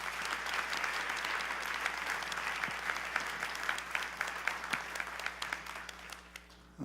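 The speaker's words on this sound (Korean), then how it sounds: "정말 큰 박수로 우리 환영해 주시면 좋겠습니다" A church congregation at a New Year special dawn prayer service applauds to welcome a pastor, a dense, steady clapping that holds throughout at moderate distance, thinning out only at the very end.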